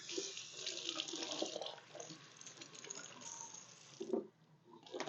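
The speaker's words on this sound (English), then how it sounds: "I'm going to wash my hands right quick." Water running steadily from a tap while hands are washed at a sink, a faint continuous splash with brief changes in flow near the end.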